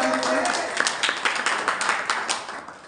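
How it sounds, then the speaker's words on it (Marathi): Applause and clapping from an audience at a student felicitation and merit award ceremony, a dense, steady wash of many hands that stays loud for the whole stretch, with faint voices underneath. "शेन जोरदार टाळी वाजवा."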